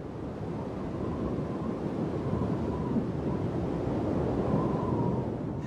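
Steady roaring wind of a mountain storm in blinding mist, a continuous loud rushing buffet with no voices.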